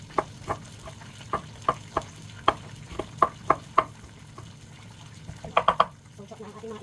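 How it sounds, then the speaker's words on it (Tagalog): Tilapia fries in a pan: irregular crackling pops and spits stand out over a steady low hiss, with a quick cluster of sharper pops near the end. "So habang nagprito tayo ng ating tilapia, yan, pwede na tayong mag-gisa ng ating sauce."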